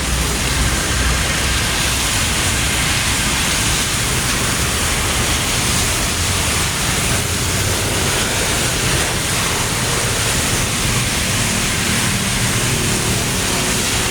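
Heavy rain from Typhoon Enteng pours down steadily as a dense, unbroken hiss, loud and close, with no pauses.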